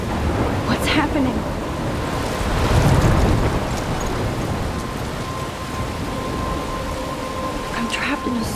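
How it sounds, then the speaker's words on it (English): Thunderstorm and heavy rain in the video game Life is Strange Remastered: a constant hiss of rainfall with a deep rumble of thunder swelling around the middle, close and enveloping. "I'm trapped in a storm?"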